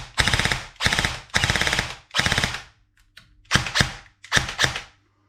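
Short full-auto bursts from a Tokyo Marui G3A3 airsoft electric gun: four rapid rattling strings close up, a brief pause, then two more quick bursts, each a buzzy mechanical chatter.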